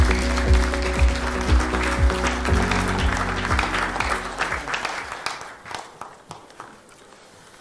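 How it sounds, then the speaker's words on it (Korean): Audience applause at a People Power Party presidential nomination convention welcomes the election committee chairman, a dense crowd clapping with music underneath that fades out over several seconds. "큰 박수로 맞이해 주시기 바랍니다"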